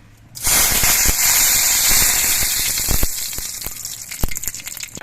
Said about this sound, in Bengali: সর্ষের তেলটা গরম করে নিয়েছি এবার এর মধ্যে কালো সর্ষে ফোড়ন দিয়ে দিচ্ছে